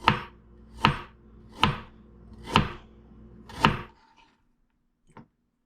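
A knife chops through a hunk of fresh ginger on a cutting board, five sharp, evenly spaced thuds about a second apart, close and clear, followed by a faint lighter tap after a pause.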